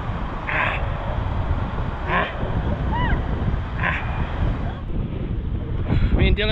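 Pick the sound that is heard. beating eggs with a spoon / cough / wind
wind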